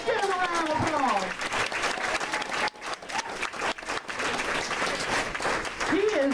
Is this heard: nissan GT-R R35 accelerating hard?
no